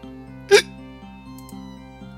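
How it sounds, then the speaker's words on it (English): A hiccup sound effect from the visual novel Katawa Shoujo: one sharp, close hiccup pops up once over soft, looping background music, with no talk. "Lily, do you have the hiccups?"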